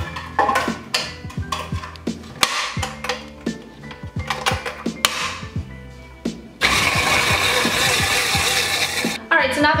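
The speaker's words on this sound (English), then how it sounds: "now the coconut milk and the coconut oil and the spinach is all blended" A blender mixes coconut milk, coconut oil and spinach: a series of short, uneven bursts and clatter gives way to a loud, continuous whir that runs close up until the end.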